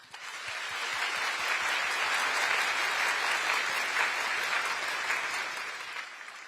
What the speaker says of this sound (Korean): 여러분 다시 한번 우리 교육생들에게 격려의 박수 부탁드립니다.